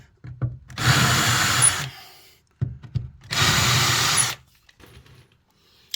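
Power drill runs in two sustained whirring bursts, each a little over a second, driving screws into mineral wool and cement board inside a shipping container, with quiet gaps and small handling knocks between.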